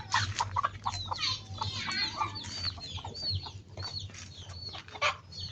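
Chickens in a kitchen vegetable garden in southern Laos cluck and squawk in quick, irregular bursts, fairly close. A low steady hum sits underneath.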